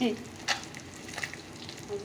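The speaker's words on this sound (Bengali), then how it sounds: "তারপর ছোটো মাছগুলো ভাজবো" Small fish fry in a pan, giving a soft, steady hiss of hot oil with a couple of brief louder crackles, close and moderately quiet.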